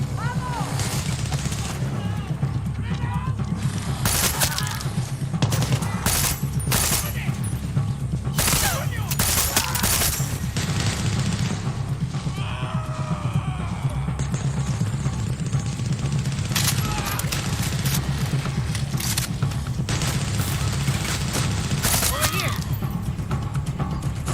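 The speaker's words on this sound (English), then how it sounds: "Wow, they already are shooting at me." Sustained enemy gunfire in Far Cry 6, with repeated sharp bursts and volleys of shots, some near and some farther off, over continuous combat rumble throughout, and a voice speaking briefly.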